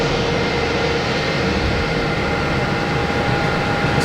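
A Delta airliner takes off at Boston Logan in darkness, a loud, steady broadband engine roar with rumbling low end filling the whole stretch, heard from a spotting position at moderate distance with no talk.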